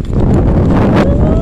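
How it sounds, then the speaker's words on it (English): Strong wind blowing outdoors by a sidewalk, a loud, close, rumbling buffet across the microphone that lasts the whole short moment. "it's windy right here"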